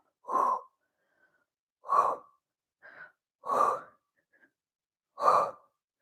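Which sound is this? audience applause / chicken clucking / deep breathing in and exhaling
deep breathing in and exhaling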